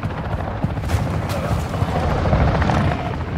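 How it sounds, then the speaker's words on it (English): A helicopter in a first-person shooter video game thumps with a steady, loud rotor drone close by, with a few sharp gunfire-like cracks mixed in and people talking over it. "Oh fuck, there's a chopper right here."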